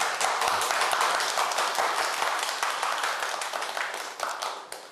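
A lecture audience claps steadily in welcome, a dense, even round of applause that fades slightly toward the end.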